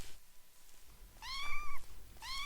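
Two synthetic cat meows from Minetest, a voxel sandbox video game, one longer and one shorter, each a clear rising-falling tonal call, close and fairly loud over soft background hum, with no talk.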